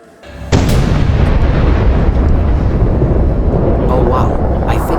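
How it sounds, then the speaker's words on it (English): Heng Long Leopard 2A6 1/16 RC tank starting up and firing, a sudden loud burst that settles into a sustained roaring, rumbling sound effect, close and steady. "let's fire up the tank for the first time and see how this tank sound"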